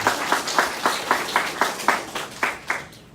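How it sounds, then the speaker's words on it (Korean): An audience at a local candidates' debate on Mokdong apartment reconstruction applauds the candidates, with about a dozen evenly spaced, moderately loud claps that trail off near the end. "오늘 어쨌든 참석해주신 후보님께 박수 한번 부탁드리겠습니다"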